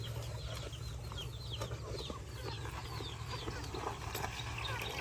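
Free-range chickens clucking and chirping softly while pecking for worms in a vegetable garden, scattered calls over a constant low rumble and farmyard background noise.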